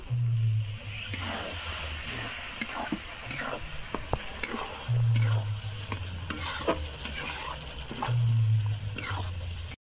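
Thick spice paste with kasuri methi sizzles and fries in a pan for a home-style festive aloo dum, stirred steadily with scraping strokes and bursts of louder frying, close up with no talk.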